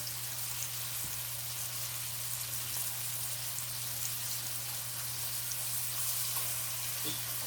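Flying fish frying in a hot pan for cou cou, a steady close sizzle with faint crackles running throughout, with no voices.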